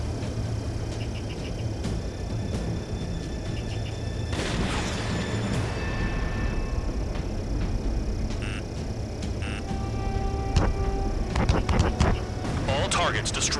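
Missile explosions in Ace Combat 7 rumble under a constant jet engine drone, with scattered booms and crackling bursts rising toward the end, while radio voices talk over the action.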